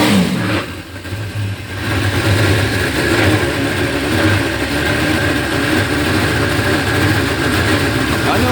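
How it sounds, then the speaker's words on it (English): A car engine with a bad transmission, probably the torque converter, runs loudly and roughly close by, a continuous churning drone that rises and falls unevenly with no talking. "That's the transmission that's bad, trying to do stuff. Probably the torque converter."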